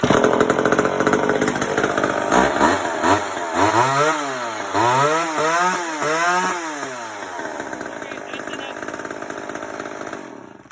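McCulloch 10-10 automatic chainsaw, repaired with a fuel line fix, roaring loud and close as it starts and runs, its engine revving up and down in repeated swells before settling to a steadier idle.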